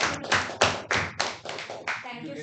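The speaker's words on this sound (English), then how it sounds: "I think Toastmaster Ramdas deserves another big round of applause." An audience at a Toastmasters club meeting gives a short round of applause, a dense burst of claps pulsing in quick waves for about two seconds.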